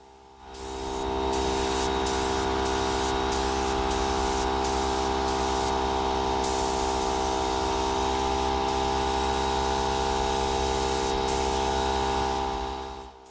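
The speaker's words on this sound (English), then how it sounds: "And now we could get to spraying." Spray gun spraying wood finish on a large wood project, a steady loud hiss that starts after a second, holds evenly over a constant hum, then cuts off near the end.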